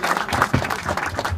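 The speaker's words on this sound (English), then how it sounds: "so round of applause for him." Audience applause at a Dress for Success ribbon cutting ceremony in Corpus Christi, a steady burst of clapping from a nearby crowd with some low background rumble.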